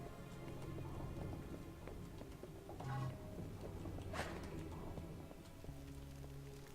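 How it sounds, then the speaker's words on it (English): Rain effects from the video game Amid Evil form a continuous wash of downpour with a rumble of thunder rising in the middle, while music-like tonal layers play underneath and no one speaks. "the rain effects were really cool"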